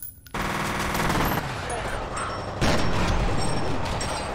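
Dense, sustained enemy gunfire in the shooter game F.E.A.R., rapid automatic bursts rolling continuously at close range and loud, swelling further near the end, with faint speech mixed underneath.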